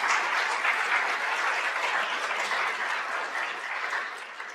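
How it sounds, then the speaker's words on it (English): Applause from a conference audience at the 2023 EPIC Conference for Derek Johnson Gage: steady, dense clapping from a large crowd that holds evenly for several seconds before easing slightly. "one more round of applause for Derek Johnson Gage"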